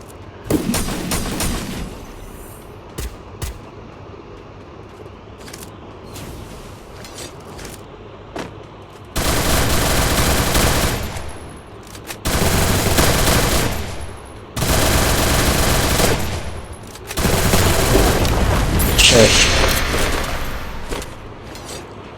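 Loud bursts of automatic gunfire in a video game, several sustained volleys of a few seconds each separated by quieter stretches with scattered single shots.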